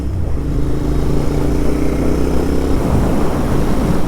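Royal Enfield Interceptor 650 ridden on an open road toward Winscar Reservoir, its twin-cylinder engine thrumming steadily and loudly with harmonic drone, wind rush layered over it, and a slight shift in engine note near the end.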